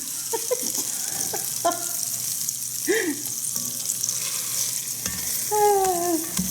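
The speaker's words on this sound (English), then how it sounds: "I actually take a potato masher, and then I just, once they're soft, mash the onions" A potato masher presses and mashes soft onions in a hot pan for a homemade meatball sauce, giving close, wet squishing and scraping over a steady sizzle, with a few squeaky metal scrapes.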